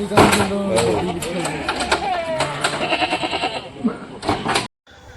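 A dairy goat herd lined up for milking bleats repeatedly and close by, the wavering calls overlapping in quick succession amid faint human voices.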